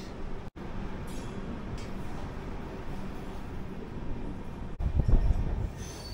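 The 13149 Kanchankanya Express rolls on its rails near Siliguri with a steady, dense rumble and a louder, heavier surge of wheel noise near the end. No one speaks.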